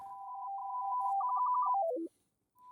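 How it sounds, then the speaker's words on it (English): A synthesized dial-tone-like hum holds steady, then steps through a short melodic phrase that slides downward before stopping, played alone as part of a reharmonized dial tone in music from the Bomb Rush Cyberfunk soundtrack. "It's like a dial tone, but like reharmonized."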